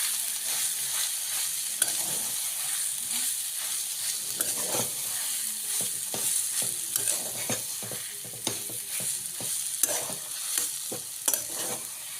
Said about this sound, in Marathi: आपलं मिश्रण एकदम छान असं परतून झालेलं आहे